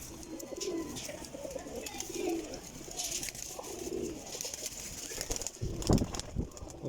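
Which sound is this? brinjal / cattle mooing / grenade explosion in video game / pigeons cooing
pigeons cooing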